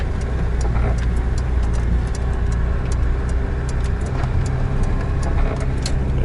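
Car driving along a road in windy winter conditions, a steady broadband engine and road rumble with faint ticking clicks throughout, close and continuous with no talk.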